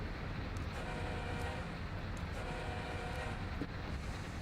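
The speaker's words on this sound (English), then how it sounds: "There's a intermodal passing us right now." In the Train Sim World 2 simulator on Horseshoe Curve, an intermodal freight train rumbles past at a distance, a faint steady rolling roar with light rhythmic rail clatter.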